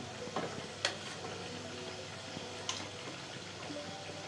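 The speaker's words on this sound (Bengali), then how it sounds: "আমার ঝোলটা ফুটে এসছে। এবার চিকেনগুলো দিয়ে দিব।" Chicken pieces go into boiling gravy for butter chicken, giving a quiet simmer and low sizzle with a couple of sharp utensil clinks against the pot, and no talking.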